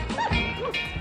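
A dog gives a few quick, close barks and yips in rapid succession within about a second.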